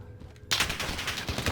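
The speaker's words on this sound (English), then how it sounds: "Someone's trying to shoot right behind me." A sudden loud spray of gunfire in Call of Duty Warzone erupts after a quiet moment and keeps going as a dense, rapid volley close by.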